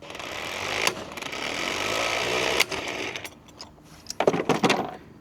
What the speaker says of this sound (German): Den Schlagschrauber habe ich übrigens von Einhell